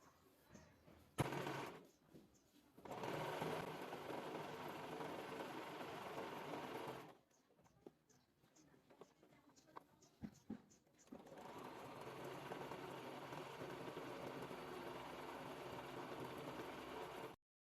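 A sewing machine stitches a folded blouse sleeve cuff, running in two long steady bursts with a quiet pause between, loud and close with no talk.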